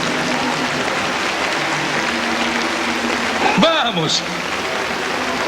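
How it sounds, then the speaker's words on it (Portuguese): Congregation applause at an evangelism service, a continuous rushing wash of clapping under a preacher's shouted exhortation, with a rising vocal sweep near the end. "deem ao Senhor uma salva de palmas"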